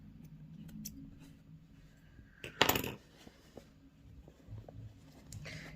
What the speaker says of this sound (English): Just snip some of these threads.